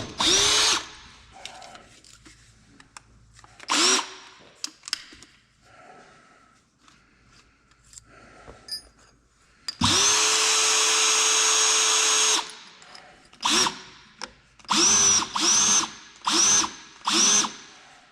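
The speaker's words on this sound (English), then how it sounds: "then we'll see if we can tip the tank and drill that hole." A power drill whirs in repeated bursts while drilling a pilot hole through a tank, short pulses and one longer sustained run, with quiet pauses and faint handling noises between.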